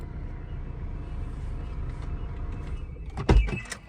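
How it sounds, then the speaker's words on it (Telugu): Side mirrors on a Maruti Suzuki S-Cross fold automatically, a short whirring motor burst near the end after a low steady car cabin hum, close and fairly loud. "left side right side mirror చూసుకోండి, ఆటోమేటిక్గా ఫోల్డ్ చేసుకోవచ్చు"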